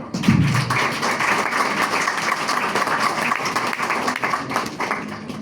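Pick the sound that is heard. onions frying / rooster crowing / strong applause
strong applause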